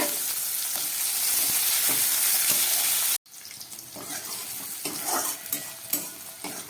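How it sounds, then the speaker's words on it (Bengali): Onion frying in oil makes a steady, loud sizzle that cuts off sharply partway through. A quieter, uneven sizzle follows, with light stirring clatter. "এই তেলের মধ্যে আমি পেঁয়াজটা ভেজে নিচ্ছি"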